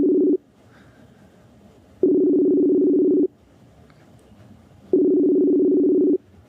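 An outgoing phone call rings back in two long steady tone bursts separated by a pause of faint line hiss, heard close and clear with no talk.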